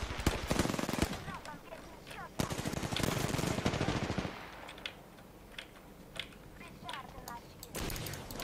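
Rapid automatic gunfire from the video game Apex Legends rattles in dense bursts, then thins to scattered single shots and distant pops, fairly quiet overall.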